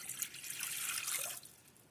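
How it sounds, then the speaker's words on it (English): Water pours steadily into a cooking pot, a close hissing splash that runs for a couple of seconds and then eases off. "We're going to start off by putting our water in here."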